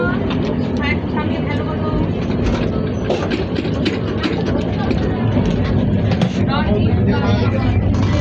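Steady rumble and rattle of a moving train heard from inside a carriage on a trip to Cox's Bazar, with people talking over the constant noise.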